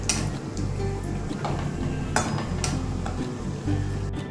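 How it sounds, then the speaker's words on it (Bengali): Bori, dried lentil dumplings, frying in oil in a karahi pan, a close steady sizzle broken by scraping stirs and sharp ticks of the spatula against the metal, with no talk. "বড়ি কিছুটা ভেজে নিচ্ছি।"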